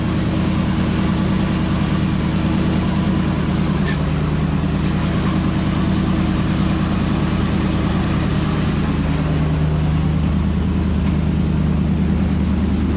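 A Volvo Penta marine engine on a boat runs steadily at around 1200 RPM, a loud, even low drone with a constant rumbling hum and faint water wash, unchanging throughout with no talk.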